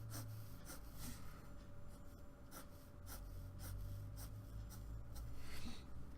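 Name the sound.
shading a drawing by hand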